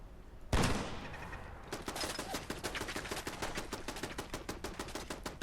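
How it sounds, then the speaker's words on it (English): Automatic turret fire in the video game Fallout London: one sharp loud blast, then a steady run of rapid, evenly spaced shots going on for several seconds. "Oh, that's a turret."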